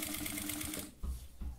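A sewing machine stitches the lining of a backpack with a steady rapid whir for most of the clip. It stops briefly, then two short low thumps follow as the fabric is handled.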